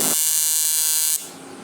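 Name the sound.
fusion welding aluminum wheel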